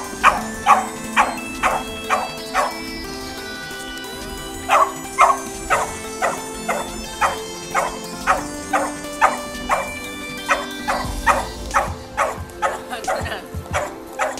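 Bailey the dog barks again and again in short, sharp bursts with a few yips mixed in, close by and loud, while people talk in the background.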